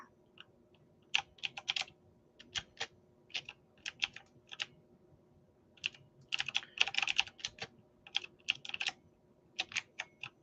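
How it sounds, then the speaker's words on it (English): Keys clatter on a computer keyboard in quick bursts of typing separated by short pauses, crisp and close but fairly quiet, with no talk. "maybe you can hear my keyboard sounds for some ASMR"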